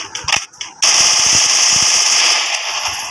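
Video game gunfire rattles out as a sustained close burst of rapid automatic shots after a few scattered single cracks at the start, loud and alone.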